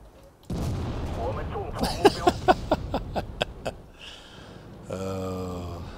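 Tank cannon fire from the World of Tanks video game, a burst of sharp rapid reports between stretches of rumbling engine noise, with a mechanical whine rising near the end.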